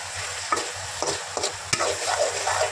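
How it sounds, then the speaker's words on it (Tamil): Mushroom gravy simmering and frying in a pan, with a steady sizzle broken by several sharp scrapes and stirs of a spoon against the pan, close up and without voices. "வேக வச்ச காளான் நல்லாவே கொதித்து தண்ணியெல்லாம் சுண்டிடுச்சு."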